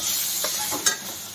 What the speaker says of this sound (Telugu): ఇప్పుడు ఇది బాగా కలబెట్టేద్దాం